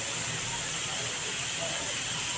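Crushed garlic sizzles in hot oil in a pan while methi bhaji is cooked, a loud, steady, close hiss that runs unbroken throughout.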